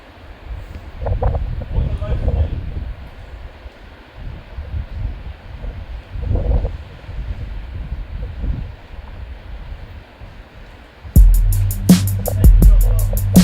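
Gusty wind buffets the microphone in low rumbling bursts, with people speaking faintly underneath; louder noise breaks in near the end.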